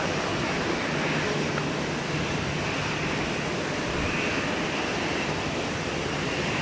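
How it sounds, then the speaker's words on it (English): A FedEx MD-11 heavy jet arriving from Memphis at Minneapolis–St. Paul Airport gives a steady, loud, broad engine roar with no break and no voices. "Here she comes, FedEx 715 Heavy from Memphis. The MD-11."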